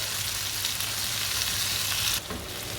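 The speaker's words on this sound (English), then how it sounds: "Okay, that's just the beef frying away in the pan there." Marinated beef browns in a hot pan for ampalaya con carne, giving a loud, steady, continuous sizzle that drops slightly near the end.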